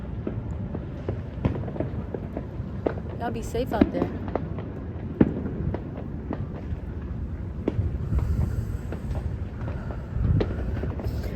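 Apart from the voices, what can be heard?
fireworks exploding, really loud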